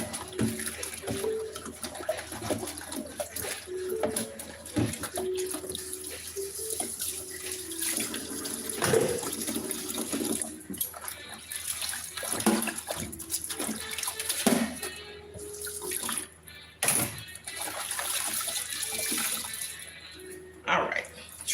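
Water runs from a kitchen sink tap as an item is washed underneath it, a soft splashing flow with clinks and pauses, while someone talks over it.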